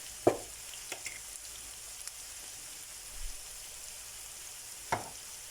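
Sautéed vegetables and tomato paste sizzle softly in a frying pan, a faint crackling bed punctuated by a few sharp utensil clicks and scrapes.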